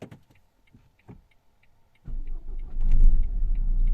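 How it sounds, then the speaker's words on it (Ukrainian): A few faint ticking clicks, then a Renault Scenic II or Megane II engine cranks and catches, settling into a steady, loud idle close by. "Пробую запустити машину."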